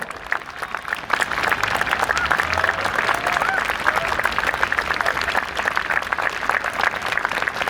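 An audience at an outdoor Chopin piano concert in Łazienki Park, Warsaw, breaks into sustained applause. Dense, even clapping from many hands starts after about a second and holds steady and loud to the end.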